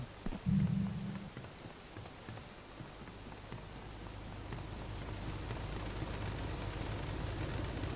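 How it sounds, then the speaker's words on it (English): Steady rain falls in Grand Theft Auto 3, an even hiss that builds slightly over several seconds, with a brief low thump near the start. "Of course, it's got to be raining out on top of it."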